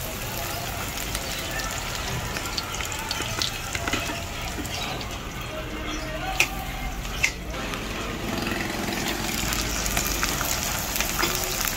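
Onion sizzling in a pan as sayote is cooked, a steady broadband frying hiss with faint crackles and a couple of sharp clicks, quite close and continuous with no talking.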